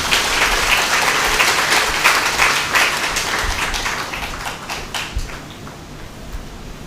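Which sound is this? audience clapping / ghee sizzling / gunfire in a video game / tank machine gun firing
audience clapping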